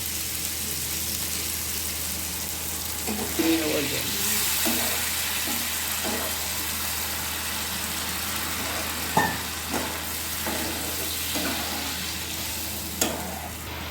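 Spiced masala, fried until the oil separates, sizzles steadily in a pan with a few sharp hissing bursts and scraping knocks as a little water is added, for a Bengali bata fish curry.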